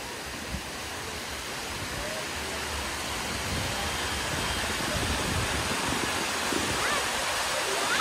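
A monsoon waterfall at Tamhini Ghat pours with a steady, full rushing roar of flowing water that stays even and unbroken throughout.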